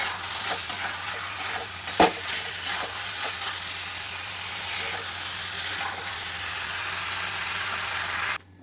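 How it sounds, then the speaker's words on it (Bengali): Masala spices being sautéed and stirred in a pan for a Bengali katla fish curry with cauliflower and potato, giving a steady close sizzle and frying hiss throughout with a brief clatter of the spoon. "আর এই যে মশলাটা কষানো হচ্ছে"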